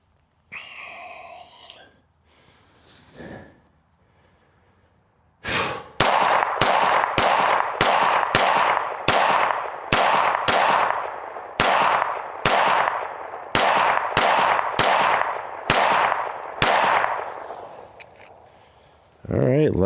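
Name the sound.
gunshots from Smith & Wesson M&P M2.0 pistol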